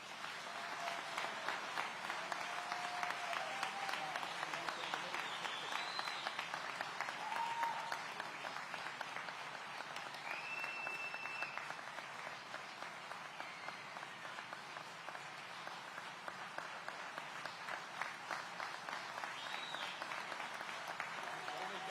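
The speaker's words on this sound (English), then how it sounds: "Let's give them a round of applause." Sustained applause from an audience at a city of Aurora award ceremony honoring community volunteers, steady dense clapping that fills the room for about twenty seconds, fairly distant and even, with a few faint voices beneath.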